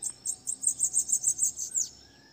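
A small songbird sings a quick run of about ten bright, high chirps in steady rhythm, close and clear, then a brief trailing note.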